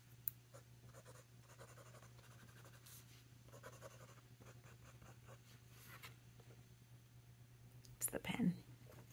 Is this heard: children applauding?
no